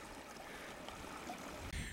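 A small moorland stream in a rocky gully near Ilkley, West Yorkshire, flowing steadily as an even close-up rush of water with a brief thump near the end.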